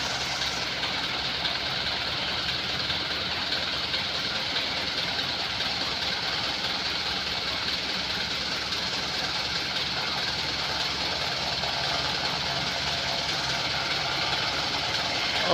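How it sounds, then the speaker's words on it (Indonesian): Mitsubishi L300 pickup engine straining under a heavy overload while climbing, a loud, steady, continuous roar and rumble with no letup throughout. "Suara mesin begitu mengeraung-raung."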